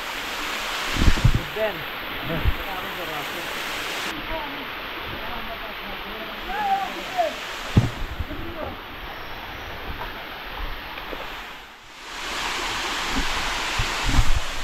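A waterfall on the Komoldoho trail rushes in a constant, broad roar, close and fairly loud, with scattered thumps and brief breaks along the way.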